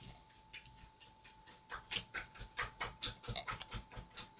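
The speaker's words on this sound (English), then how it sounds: "That's my dog scratching himself" A dog scratching itself close by, a busy run of quick rhythmic scuffs and light jingling taps in uneven bursts, no voices over it.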